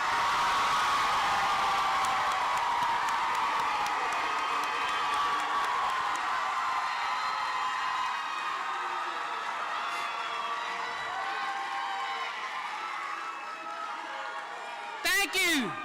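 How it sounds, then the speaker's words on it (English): Crowd cheering and applauding for graduates at a high school graduation ceremony, a loud sustained roar of voices and clapping that slowly thins out, with a brief sharp noise at the very end. "I would like for everyone to my left to give the graduates a round of applause."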